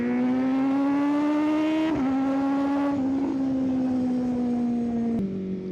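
A 2025 Kawasaki Z900SE motorcycle engine revs loudly under steady load, with abrupt pitch drops at each gear change from the quick shifter and autoblip, running continuously without talking.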